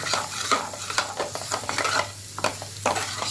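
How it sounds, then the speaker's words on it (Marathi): An onion and coconut masala paste is sautéed in a pan for a village-style curry, giving close, continuous sizzling with repeated scraping strokes of a spoon against the metal. "छान असं परतायचं असं परतलं छान परतून घ्यायचं"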